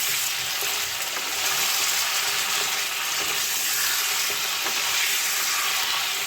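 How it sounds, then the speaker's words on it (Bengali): Chicken pieces frying in a pan for a thin Bengali chicken and potato curry, a steady, close sizzle that holds evenly throughout with no talking. "খুব বেশি ভাজবো না, 2 মিনিটের মতো এটাকে একটু ভাজবো।"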